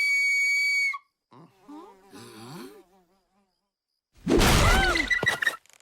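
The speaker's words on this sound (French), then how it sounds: "Ça, c'est une flûte pour appeler Raymond." A cartoon flute whistle blows one clear, sustained high call lasting about a second, followed by animated voices and a sudden loud crash.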